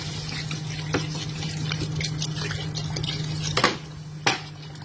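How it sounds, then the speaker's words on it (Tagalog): Water pours into a cooking pot holding chicken for tinola, a continuous liquid rush over a low steady hum, with a couple of sharp metallic clanks from the pot near the end. "maglalagay na tayo ng tubig"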